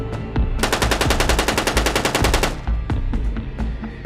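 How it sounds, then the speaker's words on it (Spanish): A loud, rapid machine gun burst of about two seconds, with evenly spaced shots in a fast run, then a few scattered heavier impacts and rumble trailing off. "Una ráfaga grotesca de disparos rompió el tenso silencio que inundaba el ambiente."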